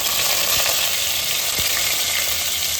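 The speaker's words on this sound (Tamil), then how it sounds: "ஒரு அரை டீஸ்பூன் சோம்பு போட்டுக்கோங்க சோம்பு பொரியட்டும்" Half a teaspoon of fennel seeds crackle and sizzle steadily in hot oil, a continuous frying hiss with occasional small pops, while cooking Tamil-style crab masala.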